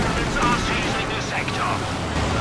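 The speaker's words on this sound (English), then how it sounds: "2 strafing runs right on that position" Soviet Air Force strafing run in Company of Heroes 2, a dense rumbling wash of gunfire and blasts that stays loud and unbroken throughout.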